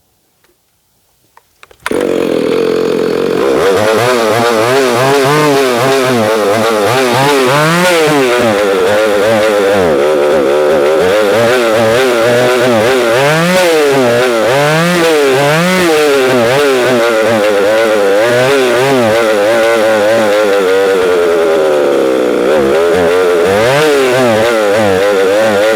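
A Husqvarna 2100 race chainsaw engine fires up after a couple of short sputters, then runs loud and close for over twenty seconds with a steady, buzzing roar that rises and falls in pitch.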